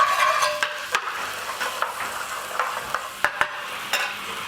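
Garlic, ginger and tomato puree frying in a pan for a restaurant-style veg jalfrezi, a close sizzle broken by repeated scraping and clinks of stirring against the pan, uneven and fairly loud, with no voices.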